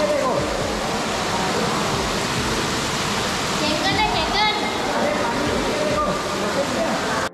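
Dense, steady rush of heavy monsoon rain in Mahabaleshwar, Maharashtra, fills the whole clip, loud and close, with faint voices murmuring underneath.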